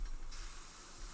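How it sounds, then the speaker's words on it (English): A short burst of spray paint hisses from a can around a stencil shape, a close, steady airy spray lasting about a second. "You put it down there and you spray around it for the curve, or you'll use a stencil like this."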